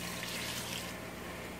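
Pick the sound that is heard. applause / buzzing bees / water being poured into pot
water being poured into pot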